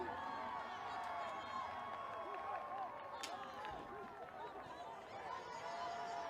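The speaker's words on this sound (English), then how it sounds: "They like the call. They're cheering." Stadium crowd at an American football game cheering a penalty call, a sustained distant roar with whoops and scattered clapping, voices talking over it.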